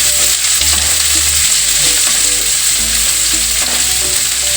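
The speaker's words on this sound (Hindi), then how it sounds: "हमारी हरी मिर्च अच्छे से फ्राई हो चुकी है। अब इसमें डालेंगे हम प्याज।" Green chillies and onions fry in a pan for an Indian methi aloo sabzi, a steady loud sizzle with the scrape and clink of a spoon stirring throughout.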